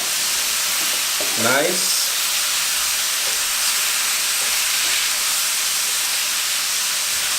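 Beef and its juices sizzling in a hot fajita pan, a steady broadband frying hiss throughout, with a brief spoken word near the start.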